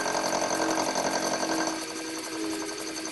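A 3/8 milling cutter deburrs the edge of a Webster engine part with a loud, steady, rattling chatter that drops slightly in level partway through, close up with no talk.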